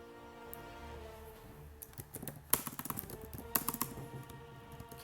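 Keys clatter on a computer keyboard in irregular bursts of close, crisp clicks during Baldur's Gate character creation, over a soft, steady hum of game music.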